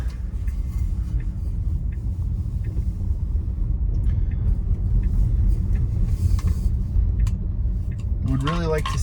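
A Tesla driving itself on FSD beta Autopilot along a road gives a steady, loud low rumble of tyres and cabin noise for the whole stretch, with a brief sliding tone at the very end and no talk.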